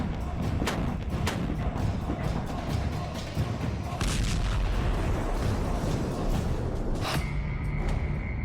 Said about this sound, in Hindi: ये गोला M777 गन से दागा जाता है।